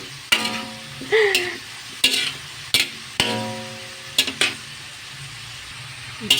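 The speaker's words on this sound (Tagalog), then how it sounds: "Sinasangkutya ko siyang maigi, guys. Mas masarap kasi pag sinasangkot siyang maigi." Chicken feet are sautéed in a pan for a sour tamarind soup, with a spoon knocking and scraping the pan in sharp bursts over a soft background sizzle. Nobody speaks.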